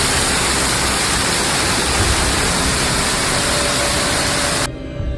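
Torrential rain pours in Moratalla, Murcia, Spain, a loud, dense, unbroken hiss like rushing water that fills the whole span and drops away abruptly near the end.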